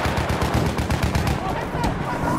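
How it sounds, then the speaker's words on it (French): An enemy machine gun fires in a video game, rapid rhythmic bursts of shots hammering loud and close over a continuous battlefield din. "Là, mitrailleuse ennemie."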